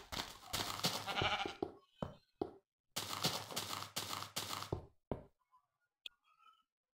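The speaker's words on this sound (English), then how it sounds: "Ooh, sheep. Hi, sheep." Sheep bleating in Minecraft on a Tekkit modded server, several short game bleats in two bursts with pauses between, fairly close and clear, followed by a few faint isolated clicks.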